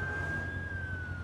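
A steady wailing ambulance siren from the Driver San Francisco video game, loud and continuous with a sustained high tone over a rumbling engine bed.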